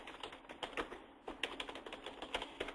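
Quick, uneven clatter of keystrokes on a computer keyboard while entering a description into inventory software, a steady flurry of light clicks heard close and fairly quiet, with no talking.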